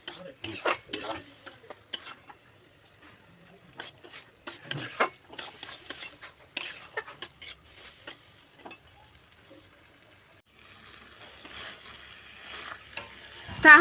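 Shukto vegetables are stirred in a pan after simmering covered on low heat, with intermittent clinks and scrapes of a spoon against metal, bursts separated by quiet gaps and a louder clatter at the end; no talking.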